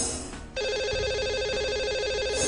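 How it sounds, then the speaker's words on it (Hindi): A telephone rings on an outgoing call to a radio show's lucky caller, the repeating electronic ring tone starting after a brief pause and continuing steadily and clearly with no talk over it. "लगाते हैं इन्हें अब कॉल।"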